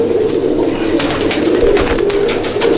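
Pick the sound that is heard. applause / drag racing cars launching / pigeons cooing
pigeons cooing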